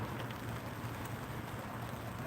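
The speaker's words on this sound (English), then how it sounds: "Fishing in the rain, man." Steady rain falls at a fishing spot, a soft even patter on surfaces that holds continuously throughout, with no talking.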